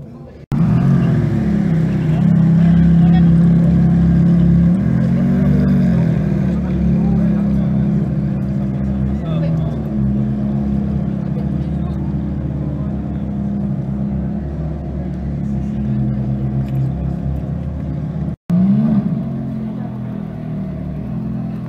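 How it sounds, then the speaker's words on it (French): A Ferrari F512 sports car arriving at a Ferrari gathering, its engine running with a steady low rumble and brief revs, close by throughout, with people talking over it. "Ferrari F512 qui vient vient d'arriver."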